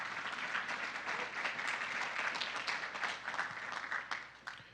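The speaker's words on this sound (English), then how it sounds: "Let's give everyone a round of applause" An audience at the ERA Summer 2024 startup Demo Day applauds its mentors, a dense, steady wash of many hands clapping that holds for the whole stretch and then thins slightly near the end.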